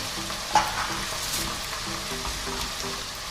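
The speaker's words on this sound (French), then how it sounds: "On va laisser mijoter ça quelques petites minutes." Spicy tuna sauce simmers in a pan with a soft, steady sizzle and a brief clink of a utensil near the start, close and moderately loud, with no voices.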